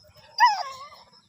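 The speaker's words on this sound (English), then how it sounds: "ito pa yung Doberman Husky" A single short, high whining yip from a Doberman Husky mix dog, close and fairly quiet against near silence.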